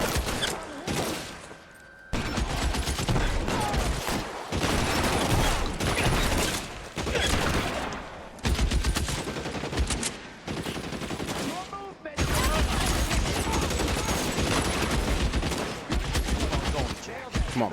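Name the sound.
50 cal machine gun fire, LA Noire video game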